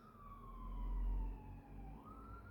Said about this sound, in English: I hear the sirens in the background